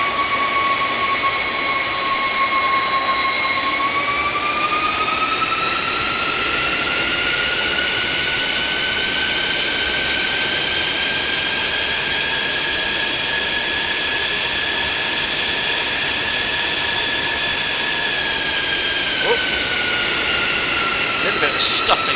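Jet engines of a Boeing 747-200 freighter taxiing in X-Plane, a loud steady whine with layered high tones that rise slightly in pitch and hold, continuous throughout.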